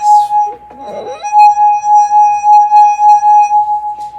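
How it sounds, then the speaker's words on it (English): A wet fingertip circles the rim of a wine glass, drawing out a loud, steady singing tone that swells in and holds for several seconds, with a few brief rubbing squeaks at the start. "rubbing your finger against the rim of a wine glass creates a sound like that"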